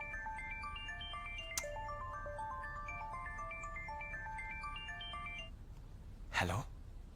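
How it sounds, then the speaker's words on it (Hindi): A phone ringtone plays late at night as a steady, melodic electronic tune of repeating notes for about five seconds, then stops, followed by a brief whooshing rustle. "इतनी रात में फोन?"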